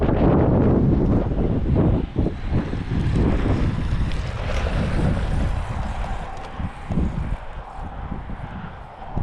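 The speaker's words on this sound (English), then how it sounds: "Sorry, it's so windy" Strong wind buffets the microphone outdoors beside a Typhon Grom RC car, a loud continuous low rumble with gusty swells throughout and no voices.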